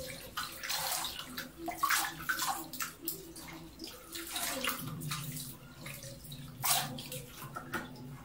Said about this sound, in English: I'm going to run water again and I'm going to rinse it again